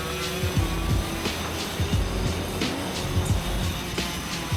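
A race kart on the KF1 Karting Circuit drones close by, its engine buzzing and rising and falling in pitch as it works through corners, loud and continuous.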